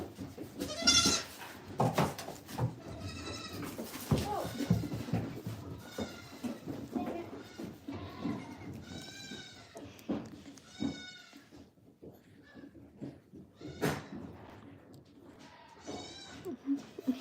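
A baby goat bleats again and again at playtime, a run of short, high, wavering cries spread irregularly over quiet handling noise and a few brief bursts of rustling.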